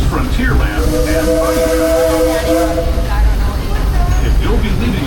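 The Disneyland Railroad steam train runs along the rails with a steady hiss and rumble, and its steam whistle blows a sustained chord in the middle. A voice speaks faintly over the train noise.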